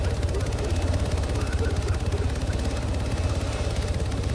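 Helicopter in a video game, a steady low rotor thrum and engine drone running throughout, loud and continuous under people talking over voice chat.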